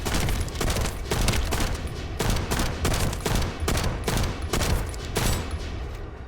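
Rapid, heavy gunfire from a sniper rifle in The First Descendant, a sci-fi shooter game, rings out as a dense burst of repeated loud shots that continues without a break through the whole stretch.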